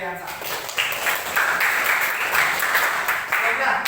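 A classroom of students applauds a classmate, a crackling clapping swell that builds and holds, with some voices mixed in.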